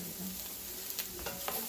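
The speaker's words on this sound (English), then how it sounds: "we're going to saute these onions until they're translucent" Onions sautéing in a pan for pot roast, a soft continuous sizzle with a few faint stirring taps, quiet and close, with no speech.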